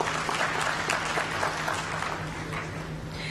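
An audience at a live annual members meeting claps steadily, a dense, close patter of many hands that fades slightly toward the end, with a faint background hum.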